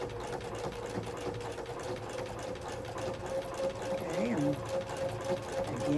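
A sewing machine stitches coiled rope into a bowl, a steady close motor whir and needle chatter running throughout, with a voice talking over it.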